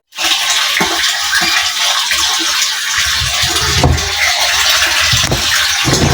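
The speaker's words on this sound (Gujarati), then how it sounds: "તો મિત્રો અહીંયા ટાંકો ભરાય છે" Water gushes steadily into a storage tank being filled with fresh drinking water, a loud, continuous close-up rush with a few splashy surges and no voices.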